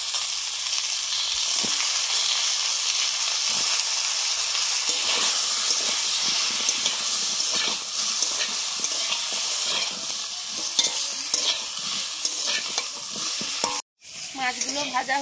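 Potatoes, beans and radish fry in hot oil for a Bengali curry, a loud continuous sizzle with stirring scrapes close by, a brief break just before the end, then the sizzling resumes.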